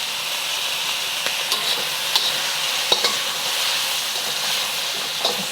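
Meat fries in a hot pan with seasoning added, a steady loud sizzle broken by scattered clicks and scrapes from stirring, with no voices.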